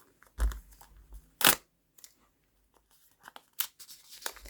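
A paper surprise packet holding doll accessories is torn open in a few sharp, close ripping and crinkling bursts separated by short quiet pauses.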